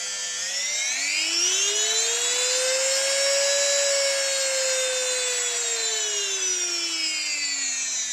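A Parkside rotary tool from Lidl runs up to full speed, its high whine rising in pitch over the first second and then holding as a steady, loud, close motor drone with a slight sag near the end.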